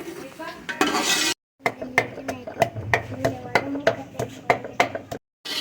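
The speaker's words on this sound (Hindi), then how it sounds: "तो अभी प्याज फ्राई हो रहे हैं।" Onions fry in a pot in an outdoor kitchen, with rhythmic metal scraping and clinking of a spoon against the pot over a low sizzle, cut by brief silences.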